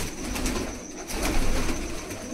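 Malwai pigeons cooing in low, soft, continuous murmurs, a steady close cluster of overlapping coos with no talk.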